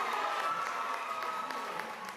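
Trojan basketball fans at a watch party applaud and cheer as a dense, steady wash of clapping and crowd noise, moderately loud and continuous without a break.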